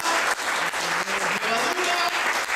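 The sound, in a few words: applause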